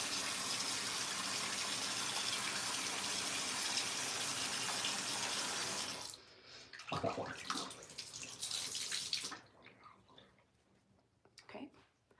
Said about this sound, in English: That sound you hear is water running